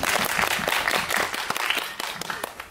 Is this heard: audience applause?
yes